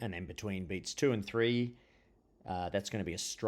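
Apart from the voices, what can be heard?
No everyday noises stand out.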